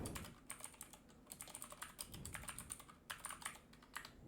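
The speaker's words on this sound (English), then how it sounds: "I'm typing" Quiet, rapid keystrokes on a computer keyboard, a steady run of light clicking taps heard close and alone.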